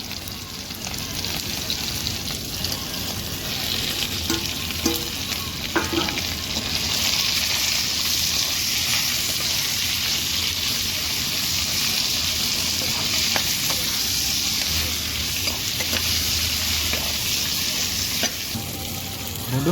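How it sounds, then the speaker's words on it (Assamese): Pork pieces fry and sizzle in hot rendered fat in a pan while being stirred, a steady loud hiss with scraping stirs and occasional clinks across the whole stretch, no voices over it. "গাহৰি ভাজি আছোঁ এতিয়া।"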